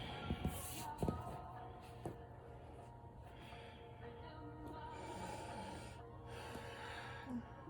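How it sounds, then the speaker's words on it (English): Long, deep breathing during a Kundalini yoga practice: soft, close inhales and exhales with a few sharper nasal snorts near the start, then a steady airy hush, all quiet. "Just breathing long and deep."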